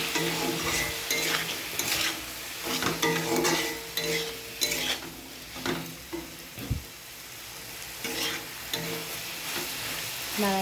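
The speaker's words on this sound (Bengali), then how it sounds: "নাড়াচাড়া করে নুন হলুদটাকে পুরো মিশিয়ে নিয়েছি" Fish seasoned with salt, turmeric and chili sizzles steadily in a hot pan while a utensil stirs and scrapes it in repeated strokes, close and fairly loud.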